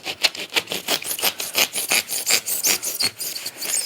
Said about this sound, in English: I happen to have my miter saw out, and this worked really good. It cuts right through it